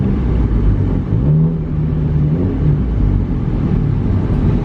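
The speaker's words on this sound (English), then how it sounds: "Oh, I think they cut the muffler off of this thing. It sounds like a red rocket." A cheap used car whose muffler has been cut off drones loudly from close by, its rough, low engine note rising and falling slightly as it runs, with no voices.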